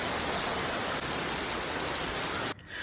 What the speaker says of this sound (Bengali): মাঝে একটু বৃষ্টি হয়ে ভালোই হলো